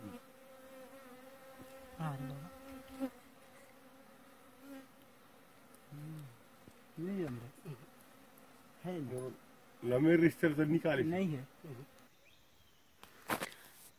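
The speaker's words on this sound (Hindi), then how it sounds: "तो इस तरह से मधुमक्खी का छत्ता को निकाल लिया गया है पेड़ से ये जंगली मधुमक्खी हैं" Wild honeybees buzz around a hive just cut out of a tree in a forest, with bursts of buzzing swelling and fading at close range, mixed with scattered clicks and rustles.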